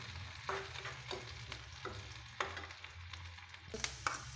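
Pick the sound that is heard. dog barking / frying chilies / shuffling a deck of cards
frying chilies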